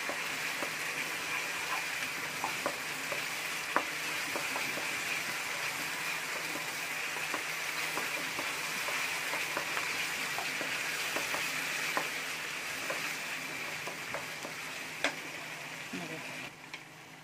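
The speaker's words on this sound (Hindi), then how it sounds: "अब हम इन सबको 1 मिनट के लिए अच्छे से भून लेंगे।" Spices with coriander powder being sautéed in a pan for palak paneer, giving a steady, soft sizzle with faint scattered clicks of stirring, close by and without talk.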